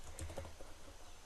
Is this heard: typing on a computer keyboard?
yes